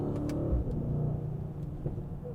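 A 2022 Mercedes GLE 63 AMG S engine downshifting, with a steady, loud mid-range engine drone heard from inside the SUV and a few faint pops and crackles from the exhaust toward the end.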